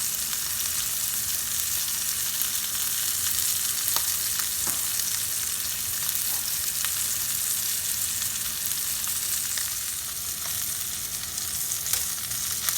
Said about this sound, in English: And now my steak goes right in the pan there. You hear that sizzle.